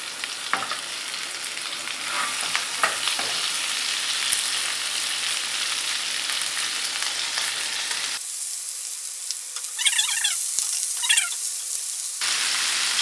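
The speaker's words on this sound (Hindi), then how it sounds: "अब हम आहिस्ता आहिस्ता से हमारे एक एक कबाब इसमें डालेंगे।" Mutton seekh kebabs shallow-frying on a tawa in hot oil, with a loud continuous hiss and occasional clatter. It breaks off midway and later resumes.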